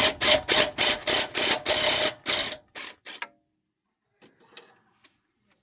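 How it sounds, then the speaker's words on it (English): A 3/8-inch impact gun on a bolt of a 2009 GMC fires a rapid series of loud, sharp rattling bursts, then stops, leaving a few faint clicks and knocks as the bolt comes free. "I broke it free, so now I'm just using a 3/8 gun."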